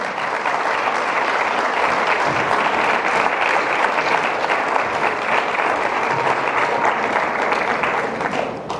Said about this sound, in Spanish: ¿Qué tal si le damos un aplauso a nuestro Señor?